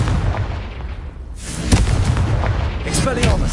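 A Confringo explosive spell is cast in Hogwarts Legacy, a loud booming burst rising out of steady game rumble, followed by continuing low crackling noise, with no voices.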